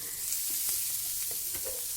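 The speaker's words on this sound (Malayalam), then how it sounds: "ഇനി ഇതിലേക്ക് സവാളയും കൂടി ചേർത്ത് ഒന്ന് വഴറ്റിയിട്ട് അതുപോലെ ചെറുതാക്കി നുറുക്കിയ ക്യാരറ്റ് ചേർത്ത് കൊടുക്കാം" Onion and finely chopped carrot sautéing in a pan, a steady close sizzle with faint scraping stir strokes throughout, no voices.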